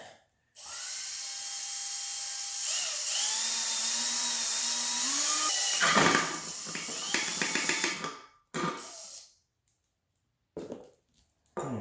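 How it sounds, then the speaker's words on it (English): A steady high-pitched whine of a power drill drilling the middle section of a tube runs for several seconds, rising in pitch, then stops; short bursts and clatter follow with brief gaps of silence. "Now it's time to drill the middle section."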